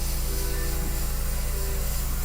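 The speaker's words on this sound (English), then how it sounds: "Start by spraying some water, just straight up water." Airbrush spraying plain water, a steady broad hiss that runs unbroken for the whole stretch at an even, fairly loud level, close by with no talk over it.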